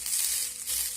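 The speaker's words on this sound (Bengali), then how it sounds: "এখন সবজিগুলোকে আবারও আমি নেড়ে চেড়ে নেব।" Vegetables stirred in a karai (wok), a brief steady sizzling hiss with soft scraping, close and moderately loud, no voices.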